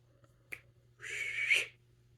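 A person whistles a single short tonal note, rising slightly in pitch, heard close and clear after a brief click, with no talking.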